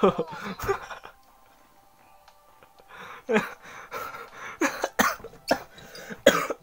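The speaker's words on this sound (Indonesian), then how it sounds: "sampai terbatuk batuk" Close, harsh coughing comes in repeated bursts, with gasps and a short pause, then more coughing and some breathy laughter.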